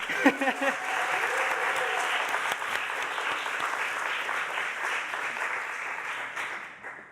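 Steady audience applause at a mental health panel discussion, filling the whole stretch, dense clapping that holds level and fades slightly at the end.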